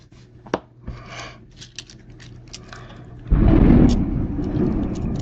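Nearby thunder during a thunderstorm cracks into a loud, sudden rumble that rolls on and slowly fades, following a few quiet seconds of faint indoor sounds and soft voices.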